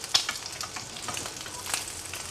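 Pork liempo frying in a pan, a close continuous crackling sizzle with scattered louder pops.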